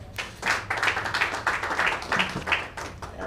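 An audience at the 30th Institution of Engineers of Kenya convention claps in a brief burst, with the claps merging into a dense, fairly close round of applause.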